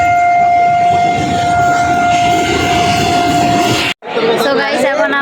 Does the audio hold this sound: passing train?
yes